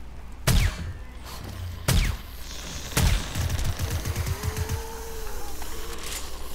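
Gunfire aimed at zombies in the survival game 7 Days to Die: three sharp, loud shots spaced about a second apart, followed by a rapid burst of smaller pops and a low rumbling background.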